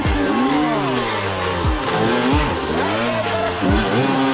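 An off-road enduro motorcycle engine in Piedmont, Italy revs hard and repeatedly, pitch sweeping up and down through gear changes, loud and close throughout.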